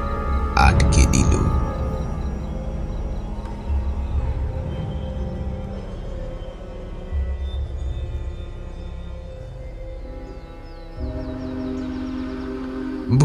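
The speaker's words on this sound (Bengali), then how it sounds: "ভোরে ট্রেনটা পৌঁছালো নিধু গ্রামে।" A train arrives in a story's sound effect: a rumbling, rattling rolling sound with a brief shrill horn at the start, a clanking run that fades, and a fresh surge near the end.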